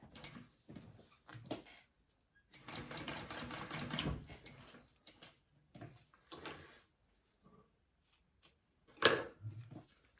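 A sewing machine makes short, quiet bursts of stitching while tacking down the corners of a Roly Poly bag, broken up by clicks and handling noises with gaps of near silence between.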